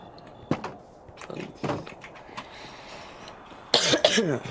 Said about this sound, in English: Cough. My throat is in pain.